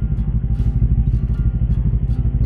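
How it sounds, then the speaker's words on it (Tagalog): A CFMOTO 400NK motorcycle engine warms up at idle, a steady low rhythmic chugging pulse running close and alone. "pinapainit ko na yung engine"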